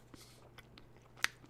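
Soft, close chewing and biting on chewy mango ginger chews, a few quiet moist smacks with one sharper crunch near the end, no talk.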